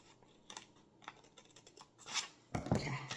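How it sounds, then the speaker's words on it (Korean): Scissors snipping paper that is being folded into a tulip, heard as quiet, scattered cuts and rustles that build to a louder crunching snip at the end, with no talk. "중심선을 이제 이렇게 가위로 잘라줄 건데"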